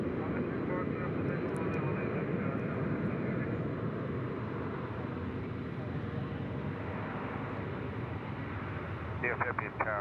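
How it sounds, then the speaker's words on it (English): A heavy jet taking off from runway 18 left at Dallas Fort Worth International Airport gives a loud, steady engine roar through the whole stretch, with faint radio chatter near the end. "runway 18 left, clear for takeoff."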